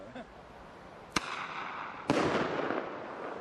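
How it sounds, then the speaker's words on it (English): Two sharp bear-banger blasts fired as bear repellent in the Arctic Northwest Passage, the first crack near the one-second mark and a second about a second later trailing into a longer crackling burst. "Everybody loves shooting off bear bangers."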